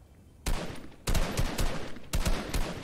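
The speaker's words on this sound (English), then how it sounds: "Shooting at me." Gunfire rips through an online shooter game, with loud, dense bursts of automatic fire starting abruptly and repeating in sustained volleys close to the listener.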